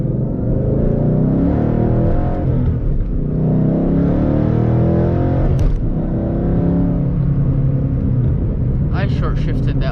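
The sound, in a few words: manual Ford Mustang GT accelerating and short shifting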